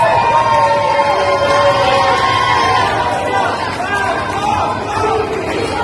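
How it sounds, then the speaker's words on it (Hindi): A crowd of pro-Palestinian supporters packs a Paris metro station, a loud steady babble of many voices with shouts and cheering mixed in throughout. "फ्रांस की राजधानी पेरिस में मेट्रो स्टेशन तक के अंदर फिलिस्तीनी समर्थकों की भीड़ देखी जा रही है।"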